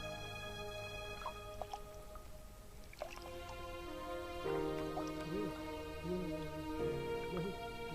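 Water trickles and drips off a raised hand in a farming demonstration: soft, close splashes and dribbles, scattered and irregular, over a quiet background of steady musical tones.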